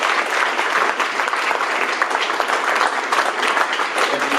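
A live podcast audience at a speaker-talk event bursts into steady, loud applause, a dense wash of many hands clapping without a break.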